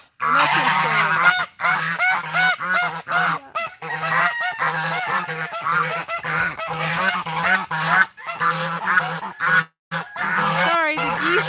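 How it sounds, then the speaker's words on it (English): Loud geese honk repeatedly and overlapping, a close, raucous flock calling almost without pause, with a person's voice partly mixed in. "the geese are kind of loud"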